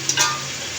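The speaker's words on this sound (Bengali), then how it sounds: "মুরগিটা এখন আমার ভাজা হয়ে গেছে, এই যে দেখুন লাল লাল হয়ে আসছে।" Chicken pieces for biryani fry loudly in a pan, a brief, close, steady sizzle with a couple of soft stirring knocks at the start.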